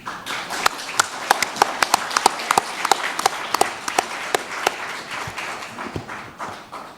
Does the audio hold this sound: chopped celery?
no